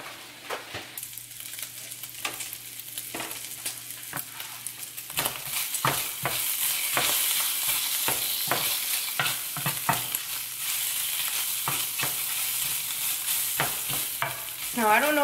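Bacon sizzling and frying in a pan on the stove, a steady close hiss with frequent crackles and pops, alone with no talk.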